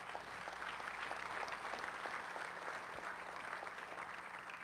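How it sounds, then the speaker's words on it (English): A crowd at an opening ceremony for a national Toshaos council conference claps steadily, a dense, even applause holding at a constant level throughout. "Give these people a big round of applause"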